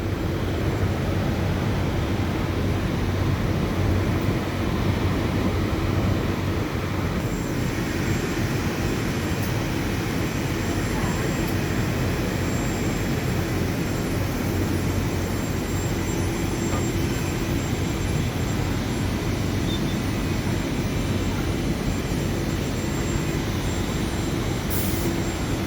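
A fabric shearing machine trims pile from cloth as it runs through, giving a steady, loud, continuous mechanical roar and whir that holds an even level throughout with no talking.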